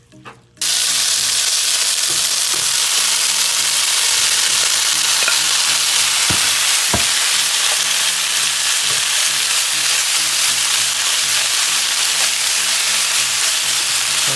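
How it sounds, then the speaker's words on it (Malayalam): Chicken pieces for shawarma frying dark in a pan, a loud continuous sizzle and crackle with occasional sharp pops, no voices. "ഒന്ന് ഡാർക്കായിട്ട് ഫ്രൈ ചെയ്തെടുക്കാം."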